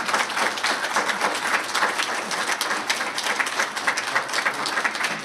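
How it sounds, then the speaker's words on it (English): Audience applause at a State Historical Society anniversary event. The dense, even clapping from a room of people holds steady at moderate volume from start to finish, without speech. "Let's give her a round of applause."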